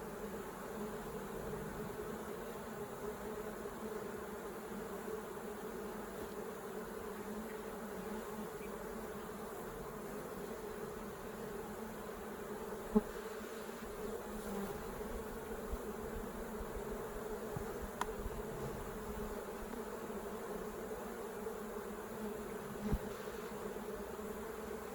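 Honey bees hum in a dense, steady drone from an opened beehive during a hive inspection, close and continuous with a few faint clicks and no talk.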